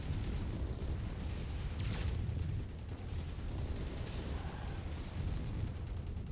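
An AMS anti-missile system fires from a mech in MechWarrior 5, a dense, continuous roar of rapid shots and blasts, loud and close, with no talking over it.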